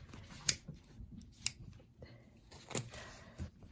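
Scissors make a few sharp snips through satin ribbon while roses are crafted, quiet and close, with faint handling rustle and soft murmuring around the cuts.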